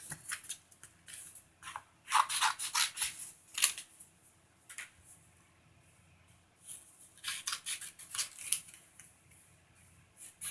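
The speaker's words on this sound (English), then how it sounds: "I'm gonna get my paper and cut it." Scissors snip through decoupage paper in quick bursts of close, crisp cuts separated by short pauses, with no voices.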